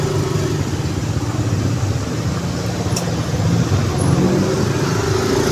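Street traffic on a busy road at night after rain, a continuous loud engine and road rumble with a car passing close, a dense steady wash of vehicle noise.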